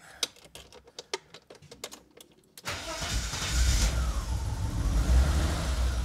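A BMW E30 engine cranks and catches, then idles roughly with throttle blips. It is preceded by a few seconds of sharp clicks and taps, then the running engine rumbles loudly and steadily close by.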